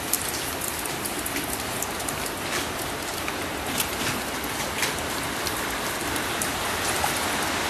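Rain falling steadily on a surface, a dense even hiss of drops with scattered brighter splashes throughout, heard alone without talk.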